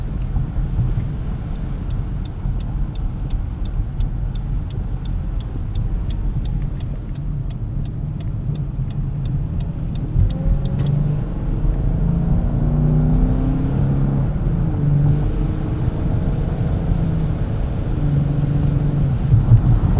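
A car's V6 engine hums steadily from inside the cabin, with a low drone and a slight rise in revs partway through, plus faint road and wind noise.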